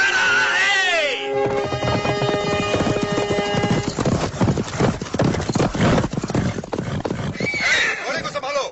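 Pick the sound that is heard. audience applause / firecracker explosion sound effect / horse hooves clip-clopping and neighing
horse hooves clip-clopping and neighing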